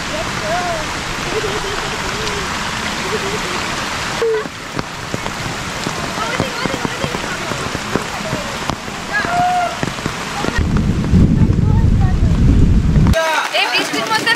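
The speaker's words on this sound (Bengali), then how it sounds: "বাইরে পুরো সাদা হয়ে বৃষ্টি নেমেছে" Heavy rain pours outside a car during a trip to Belpahari, a dense continuous hiss and patter that grows louder near the end, with a voice talking over part of it.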